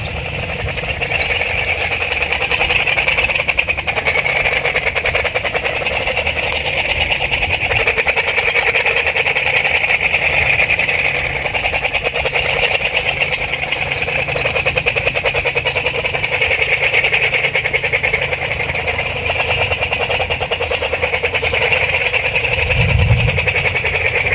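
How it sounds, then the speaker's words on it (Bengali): A dense, steady chorus of frogs croaking continuously at close range, a loud layered rasping drone with no talking over it. "ব্যাঙের যে আওয়াজগুলা এই আওয়াজগুলো আস্তে আস্তে শুনেন"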